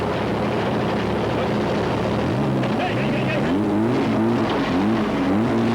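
A rally car engine at the 1995 Dubai International Rally drones steadily and loudly, its pitch rising and falling through repeated revving and gear changes.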